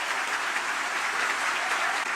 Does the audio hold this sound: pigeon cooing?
no